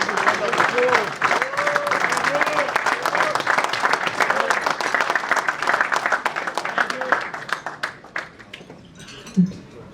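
An audience at a cricketers' reunion applauds in a loud, sustained burst of clapping with voices calling over it, tapering off toward the end.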